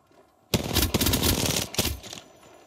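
Rapid automatic gunfire in Apex Legends bursts in loud and close, a dense rattling stream of shots that stutters briefly near the end before cutting off.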